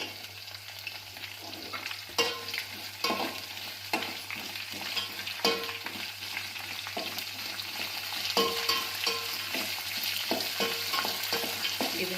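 Chopped onions and green chillies frying in a pan for tomato chitranna, a steady sizzle under repeated scraping stirs, close and fairly loud, with no talking.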